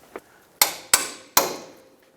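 A hammer taps a seized, rusty strut bolt out of its bushing on a 1996-2002 Toyota 4Runner front suspension: one light tap, then three sharp, ringing metallic strikes spaced about half a second apart.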